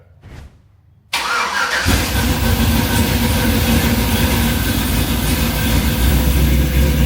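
Chevrolet C10 truck engine cranking then catching and settling into a loud, steady idle close by, starting abruptly after a short quiet stretch with faint background sound.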